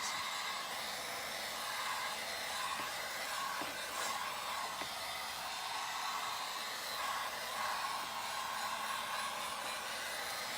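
A heat gun drying paint roars steadily up close, a continuous airy whoosh with a few faint clicks and knocks in the background.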